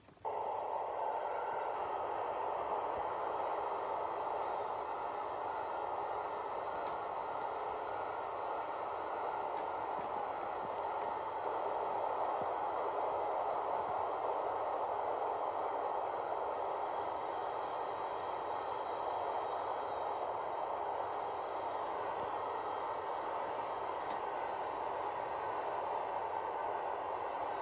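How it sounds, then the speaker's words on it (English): A long, steady rumble and rushing roar of a passing CSX freight train with six locomotives, continuous and fairly loud with faint squeals, no voices. "that was a train"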